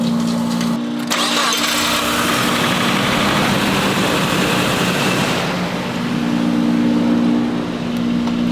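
A Nissan D21 truck engine catches on an ultra cold start and settles into a loud, close, rough idle, its steady rumble dipping briefly before picking back up.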